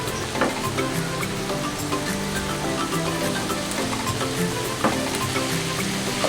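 Boiled potatoes fry in a pan over raised heat for an egg-and-potato dish, giving a steady, close sizzle with occasional soft clinks of stirring and no voices.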